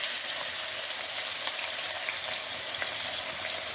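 Medium-size onions hitting hot oil in a pan, giving a steady loud sizzle and crackle that holds evenly from start to end, close and without talk.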